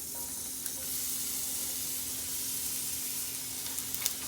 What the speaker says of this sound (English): I'm going to put my onion in here first.